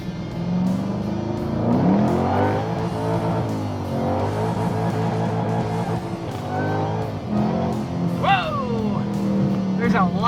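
A Ford Mustang S197 fitted with a Pedal Commander throttle controller revs and accelerates repeatedly, its engine note rising and falling in steady sweeps, loud and close, with a brief squeal near the end.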